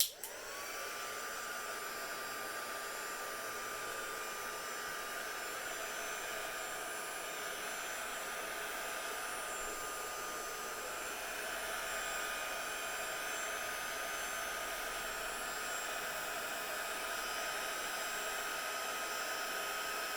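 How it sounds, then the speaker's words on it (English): A heat gun blasting steady, loud hot air over craft card, switching on abruptly with a rising whine and then holding an even roar throughout, no talking. "my heat gun's about to go on so I don't blow your eardrums"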